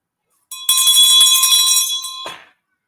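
A single bell is struck once to mark the next part of a session, giving a bright, loud metallic ring that holds for about two seconds before cutting off, with no speech over it.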